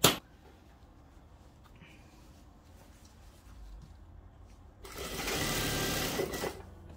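A sewing machine stitches stretchy vinyl faux leather fabric, starting with a quiet rumble that swells into a loud, rapid mechanical whirring burst of about a second and a half near the end before stopping.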